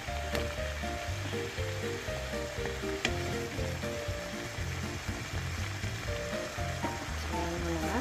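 Beef liver bubbles and sizzles steadily in a pan, a busy frying crackle with soft popping throughout at moderate, close volume.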